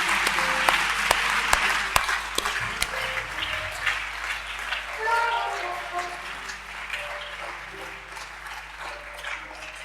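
Church congregation clapping, a dense, moderately loud patter of many hands with a few sharp individual claps early on and soft tonal sounds rising beneath as the applause carries on.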